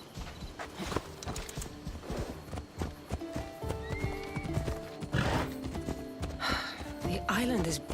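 Horse hooves clip-clop while the animal whinnies in a video game, with layered speech and background score running throughout; a loud neigh rises near the end.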